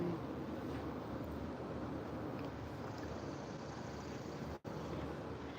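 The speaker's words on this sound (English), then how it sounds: "A plane is going by." A steady, broad rumble of an airplane passing overhead at a distance, holding level for several seconds before a brief dropout near the end, with no talking.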